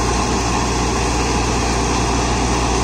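A Mahindra Novo 755 DI 75 HP 4WD tractor engine runs steadily and loudly up close, a constant dense drone with no change in pace and no voices.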